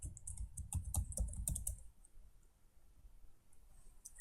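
Rapid clicking keystrokes on a computer keyboard as a password is entered, a close burst of taps that thins out to a few faint clicks.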